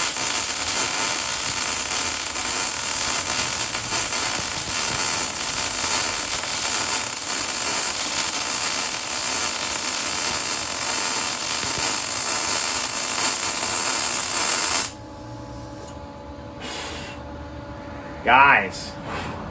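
A wire-feed welder runs a long flat weld on a truck, its steady crackling hiss continuing for about fifteen seconds before stopping abruptly, followed by a brief clunk.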